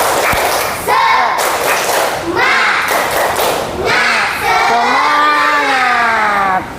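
A classroom of children standing and doing a rhythmic 'tepuk semangat' clapping chant, with bursts of loud claps followed by children shouting the chant word together, repeated several times, close and energetic.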